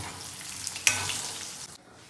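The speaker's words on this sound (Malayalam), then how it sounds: "നല്ല ബീഫ് നല്ലവണ്ണം ഡ്രൈ ആയി പൊരിക്കണം" Beef frying dry in a hot pan, a steady soft sizzle with a sharper burst partway through, as if stirred, that fades before cutting to near quiet at the end.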